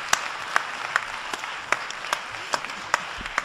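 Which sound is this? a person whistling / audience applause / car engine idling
audience applause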